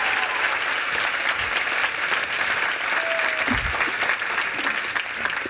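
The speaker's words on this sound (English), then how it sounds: "let's give them another massive round of applause" A large conference audience gives a massive round of applause for presenters at an Isagenix event, a continuous, loud, even roar of clapping, close and sustained, with a faint whistle cutting through briefly.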